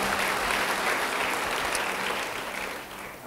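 A church congregation claps together after a sermon point, a broad sustained patter of many hands that gradually fades toward the end, with no talking over it.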